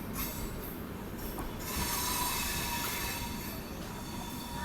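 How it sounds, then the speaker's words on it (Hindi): SMT Bengaluru Humsafar Express rolling in at platform 1 of Katpadi Junction, a steady loud rumble of wheels on rails with faint squealing and clatter, heard close from a passing train. "ये देख सकते हैं SMT Bengaluru Humsafar express arrival ले रही है प्लेटफॉर्म नंबर 1 पे"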